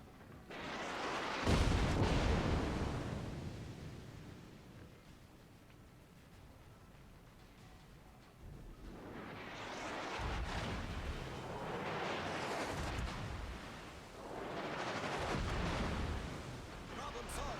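Warships fire naval artillery in a video game battle: a few heavy booming blasts, each swelling and then rolling away over several seconds, with quieter stretches between them.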